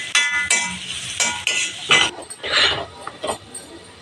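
Curry of brinjal and dried prawns being stirred in a pot with a spoon, then the lid set on: a few clinks and scrapes of metal on metal, close and fairly loud, with no speech.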